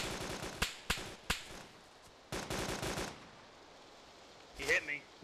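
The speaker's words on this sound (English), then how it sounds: "You guys heard the gunfire?" Gunfire in the survival video game DayZ, a few sharp distant shots and short rapid bursts cracking out in an irregular rhythm, fairly quiet, with a voice speaking briefly near the end.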